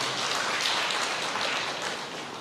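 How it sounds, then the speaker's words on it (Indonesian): Church congregation clapping, a dense steady wash of many hands at moderate volume, holding for a couple of seconds and easing slightly at the end. "Berikan tepuk tangan yang meriah."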